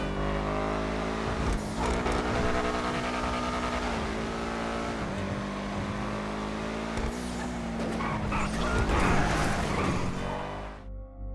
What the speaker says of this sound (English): the engine sound on this thing is incredible